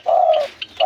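A pigeon gives a short, close cooing call, a low warbling hum that breaks briefly and resumes.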